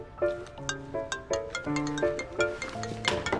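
A mobile phone rings indoors during a meal, playing a bright melodic ringtone of repeating note patterns that continues steadily for several seconds, fairly close and alone without talk.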